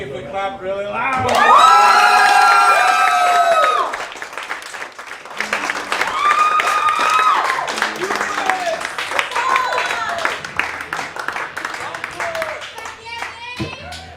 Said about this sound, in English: I think maybe if we clap really loud.